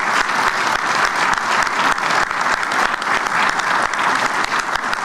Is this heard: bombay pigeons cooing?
no